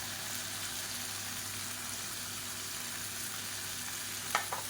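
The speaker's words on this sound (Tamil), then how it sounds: "இது எல்லாத்தையும் நல்லா வதக்கி விட்டுக்கலாம்" Coriander and drumstick leaves sautéing in a pan, a quiet continuous sizzle with a brief stirring scrape near the end.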